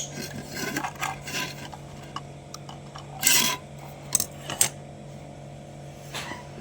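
A plastic bottle being cut while a pipe is wrapped with tape to build a water tank cleaner: faint, intermittent rasping and scraping with a few sharper scratches, no talking.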